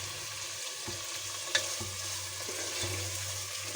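Bay leaves dropped into a sizzling pan of oil while cooking country-chicken pulao, giving a steady close frying hiss with a few light stirring knocks and one brief sharp crackle.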